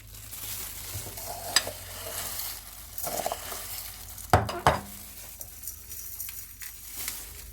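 Black olives being stirred in a bowl, with soft rustling and clinking of the olives and a utensil, two sharper knocks in the middle, all fairly close and quiet.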